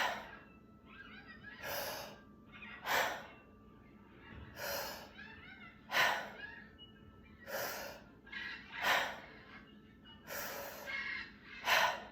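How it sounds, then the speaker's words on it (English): Deep breaths drawn in and pushed out through the mouth, about a dozen loud airy gasps and exhales in a steady, quick rhythm, close and alone. "Now, it all happens through the mouth, in and out, with a deep inhale and a full expansion of the belly."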